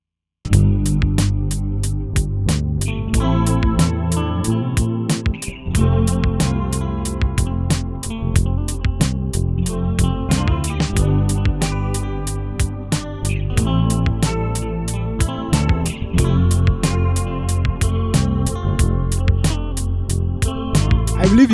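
Electric guitar lead played with vibrato, slides and bends, a continuous melodic solo over a steady rhythm backing with regular beats, loud and sustained throughout.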